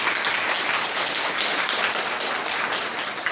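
An audience claps in sustained, dense applause at an event, steady and loud for the whole stretch with no break.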